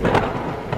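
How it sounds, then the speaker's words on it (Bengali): A brief rumble of thunder with rain noise, heard from indoors, loud and close for under a second, with no voices. "এই তো বৃষ্টিরই শব্দ।"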